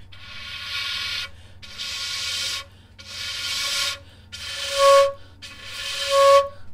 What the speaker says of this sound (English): If it goes too much down, it will be like a very scattered kind of sound, very weak sound, like this.